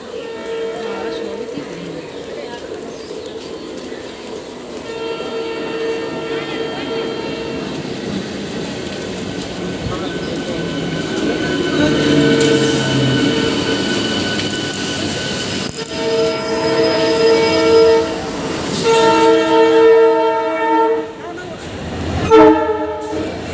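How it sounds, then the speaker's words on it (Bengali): Train pulling into a railway platform, with a loud approaching rumble, repeated horn blasts and clattering wheels building toward the end, under a busy crowd murmur. "আমাদের 2টো ট্রেন আসছিল পরপর"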